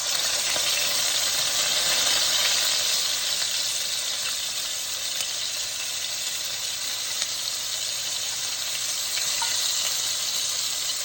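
Yellow curry paste frying in hot bubbling oil for Thai chicken curry, a steady bright sizzle and crackle that runs continuously and evenly, close up and alone with no talk.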